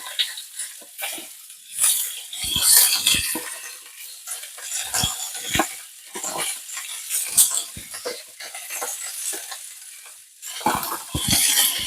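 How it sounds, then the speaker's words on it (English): Ground beef browning in a pan on the stovetop for a beef casserole, a steady sizzle broken by repeated scraping and stirring strokes of a utensil against the pan, close and fairly loud, with no voices. "So I'm going to brown the beef."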